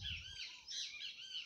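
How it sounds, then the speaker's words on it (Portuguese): Small birds chirp and twitter in an organic custard apple orchard, a cluster of thin, high, fairly faint calls repeating over about a second and a half, with no one speaking. "Aí os passarinhos aqui, ó, que se alimentam bastante."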